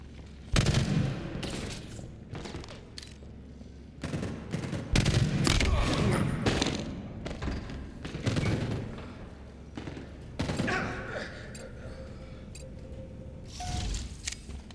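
Bursts of video game gunfire crackle across a busy, cluttered mix, with sharp clustered shots and rapid volleys that rise and fall in uneven waves, rather loud and close throughout.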